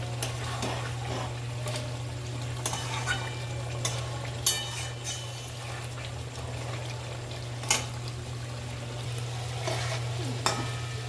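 Chicken masala with green chillies stir-fries in oil in a pan for Punjabi chicken khosa, a steady soft sizzle broken by occasional scraping stirs of the spoon.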